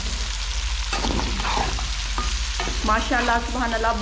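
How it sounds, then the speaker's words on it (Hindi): Chicken with ginger-garlic paste fries and is stirred in a karahi, a steady close sizzle with scraping utensil strokes, while someone speaks briefly over it. "इसको भी हम फ्राई कर लेंगे।"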